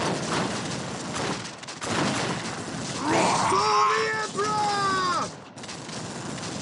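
Dawn of War battle gunfire crackles in rough bursts, with a radio-style voice speaking over the shooting in the middle.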